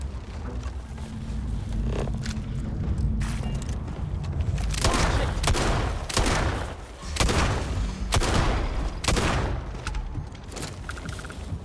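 Bursts of gunfire in the video game Starfield, a run of heavy booming shots and rapid volleys in quick succession, loud and close, with a brief lull partway through.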